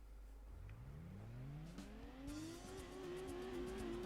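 Nissan March engine revving in the racing game Gran Turismo 2, pitch climbing steadily as the small car accelerates, loud and continuous with a light tire squeal near the end.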